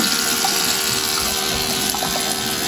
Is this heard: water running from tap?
yes